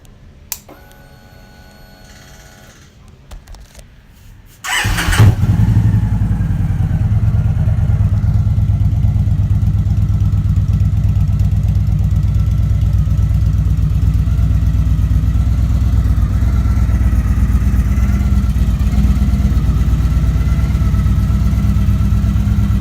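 A motorcycle fitted with Drew Miller mufflers and Vic Bagger exhaust tips is quiet for about five seconds, then fires up into a loud, steady, deep idle that rumbles on unbroken and close.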